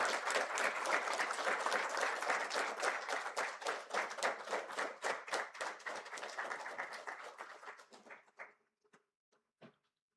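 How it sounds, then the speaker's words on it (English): Audience applause at the inauguration of a plant cell fermentation centre of excellence, a sustained dense round of clapping that thins out and tapers into a few final scattered claps before silence. "A big round of applause, please."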